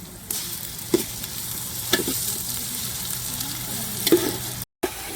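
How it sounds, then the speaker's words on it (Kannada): Ginger garlic paste frying in a pan during an outdoor family camp at a farm garden, a steady loud sizzle broken by a few scraping stirs. "ಈಗ ಸ್ವಲ್ಪ ಶುಂಠಿ ಬೆಳ್ಳುಳ್ಳಿ ಪೇಸ್ಟನ್ನ ಹಾಕ್ತಿದ್ದಾರೆ."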